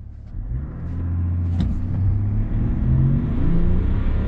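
A 2022 GMC Sierra 1500 AT4 diesel pickup launches and accelerates hard, its engine rumble rising steadily in pitch and loudness as it pulls, heard from inside the cab with no talking.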